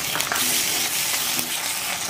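Ginger garlic paste fries in hot oil with onions for chicken curry, a loud, dense, continuous sizzle close up, with faint stirring underneath.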